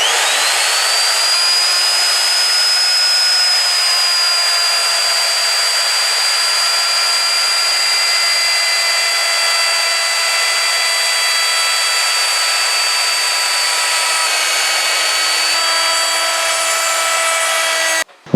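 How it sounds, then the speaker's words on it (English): A router fitted with a round-over bit cuts a decorative edge along an exterior plywood kitchen tabletop, giving a loud, steady high-pitched whine with a constant cutting rasp that holds for the full run before abruptly stopping. "I decided to route a decorative finish around the top edge of the table using this rounding over bit."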